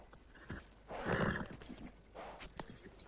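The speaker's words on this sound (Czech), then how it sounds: "Armáda si vždycky poradila s divokými koňmi." A wild horse whinnies and snorts amid scuffling hoof sounds, with two louder bursts of neighing and breath rising over a restless, noisy background.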